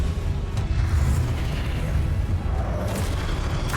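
A spell cast in Hogwarts Legacy gives a heavy, booming blast with a rumbling low end that sustains steadily throughout, loud and close amid spell-combat noise.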